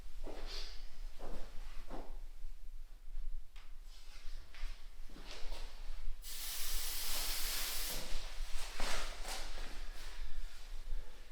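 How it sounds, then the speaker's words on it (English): A smoke detector tester aerosol sprays into a smoke detector during a fire alarm system demonstration, giving a loud, steady hiss lasting about two seconds, set among scattered short bursts and clicks over a constant low hum. "What are you spraying into it? It's a smoke detector tester."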